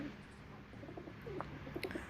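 Malwai pigeons coo in short, soft repeated calls from a loft, close by over a steady low background hum.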